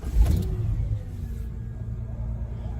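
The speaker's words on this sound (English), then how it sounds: "Start the engine." A car engine turns over and settles into a low, steady idle rumble during an engine check with an OBD2 diagnostic scanner, heard close with no talk.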